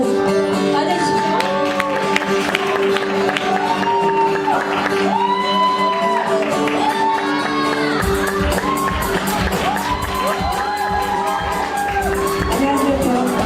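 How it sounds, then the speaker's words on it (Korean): A crowd at a salsa spring party breaks into sustained applause and cheering to welcome actress Moon Hee-kyung, with whoops and shouts over loud party music throughout. "큰 박수로 맞아주십시오"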